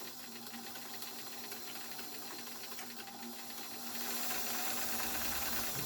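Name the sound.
Bernina 730 Record sewing machine sewing freestyle stitch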